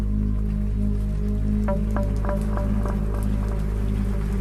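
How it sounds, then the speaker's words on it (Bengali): Rain begins falling as a sound effect in a Bengali horror audio story, with scattered drops pattering over a constant low hum, alone with no voices. "আবার বৃষ্টি নামল।"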